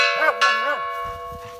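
A bell at a former camp turned museum rings out as an alarm, its steady tone sustained for the whole moment while a dog's wavering howl rises over it early on.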